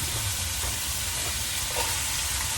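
Beans tipped into a hot pan where chicken is already cooking give a steady, close sizzle of frying that holds at an even level throughout, with no voices.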